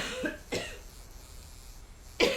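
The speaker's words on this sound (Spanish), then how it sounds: "Espero que no estéis oyendo las toses" Three separate coughs from a person near the microphone, with quiet gaps between them and no talking.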